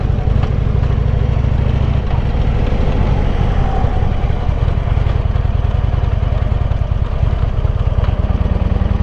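A Harley-Davidson Road King fitted with a Tilting Motor Works conversion rumbles steadily while being ridden, its loud low engine note holding a constant throb throughout with no voices over it.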